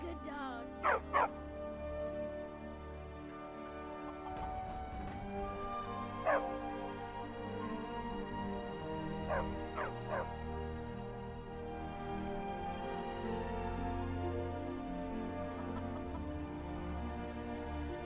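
A dog in the Skyrim video game gives a few short sharp barks and yips early on, then scattered single barks over background music with no speech.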